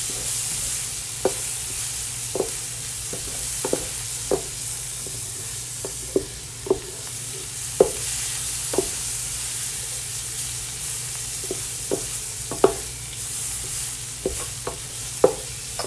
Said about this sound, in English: so I'm going in now with my carrots